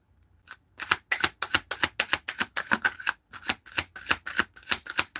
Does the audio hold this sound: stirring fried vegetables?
no